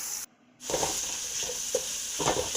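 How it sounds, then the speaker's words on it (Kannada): Sliced onions and slit green chillies sizzle steadily in hot oil for lemon rice, a continuous close crackle with faint stirring scrapes, following a brief moment of silence at the start. "ಅದನ್ನೆಲ್ಲ ನೀಟಾಗಿ ಫ್ರೈ ಮಾಡ್ಕೋಬೇಕು"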